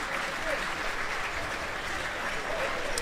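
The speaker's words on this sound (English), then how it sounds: "Kaforzi off to be replaced to a round of applause from the crowd here at Loughborough" Steady, dense applause from the crowd at a Loughborough futsal match, England against Switzerland, greeting a substituted player; the clapping is loud and continuous, filling the hall for the whole stretch.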